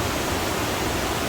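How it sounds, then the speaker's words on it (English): Steady, dense roar of the waterfall at the Sinks in the Great Smoky Mountains, a constant broadband rush of falling water filling the whole moment without pause or voices. "Pretty awesome waterfall right here."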